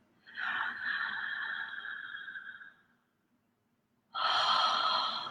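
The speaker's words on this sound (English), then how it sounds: "Focusing on the exhale." Two long breathwork breaths pushed out through the mouth, close and breathy, the first lasting about two and a half seconds, then a short silence before the second begins.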